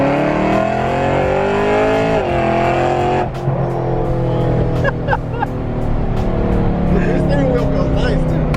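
BMW E92 M3 with a loud aftermarket exhaust revving nearby, its engine note rising and falling with crackles and pops, while people talk over it throughout.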